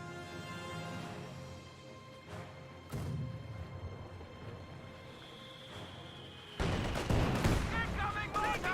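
Artillery-style booms and gunfire from a 120mm mortar and small arms in the World War II strategy game Company of Heroes 2, with scattered muffled blasts building to a denser, louder burst of explosions near the end, under faint background tones.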